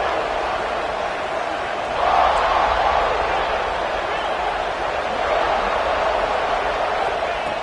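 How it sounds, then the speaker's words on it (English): Crowd noise in an American football video game swells from around two seconds as the home fans come alive during a red-zone defensive stand, a broad steady roar that persists to the end, with no talk over it. "the crowd coming to life here, trying to help this defense down in the red zone"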